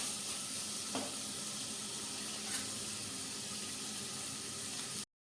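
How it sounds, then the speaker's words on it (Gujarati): Cluster beans and potatoes sizzle steadily in a hot pan, a continuous hissing fry with a couple of faint scraping stirs, close up, ending abruptly. "એક મિનિટ આ રીતે ફ્રાય થવા દીધા"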